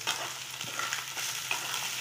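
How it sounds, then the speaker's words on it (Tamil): Fish roe frying in a pan sizzles steadily while being stirred, a close, even hiss with faint scrapes and no voices. "போட்டு நல்லா கிளறி விட்டுருங்க."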